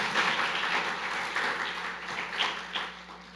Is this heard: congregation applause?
yes